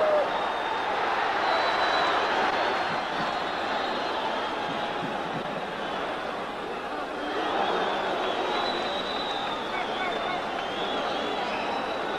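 A boxing crowd at a 1967 fight in an American ring cheers at the final bell, a sustained, fairly distant roar of voices and applause mixed with faint laughter and chatter, steady throughout.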